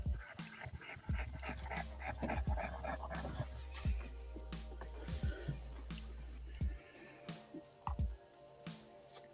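A small dog whimpers and pants indoors, soft, close whines and breaths recurring over a low steady hum, with occasional quiet talk.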